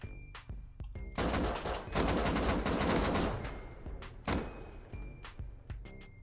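Gunfire in the survival game Rust near a furnace base, a dense burst of rapid automatic shots lasting a couple of seconds, bracketed by scattered single cracks before and after, loud and close.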